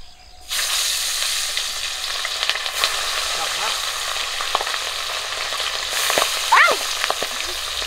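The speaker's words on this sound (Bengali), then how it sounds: "মাছগুলো মাখানো হয়ে গেছে আর তেলটা কিন্তু গরম হয়ে গেছে। মাছগুলো দিয়ে ভেজে নেব।" Pabda fish, rubbed with turmeric and salt, sizzling in hot oil in a pan, a steady dense frying hiss with crackles and spits throughout, close and fairly loud, with faint voices briefly audible near the end.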